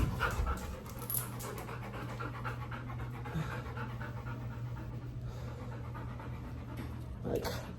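A dog pants in quick, steady breaths close by, the rapid rhythm running throughout, with a faint low hum underneath.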